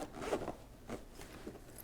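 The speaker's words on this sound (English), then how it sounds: "you open this up and you get a nice hard case with a zipper" Zipper on a hard case for a Meike MK-MT24 macro twin lite flash is pulled open in a few quick rasping strokes, close and moderately loud, with no voices.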